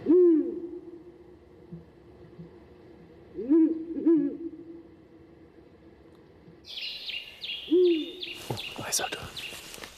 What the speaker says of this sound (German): Dabei hilft eine Klangattrappe, im Prinzip Vogelstimmen aus der Konserve.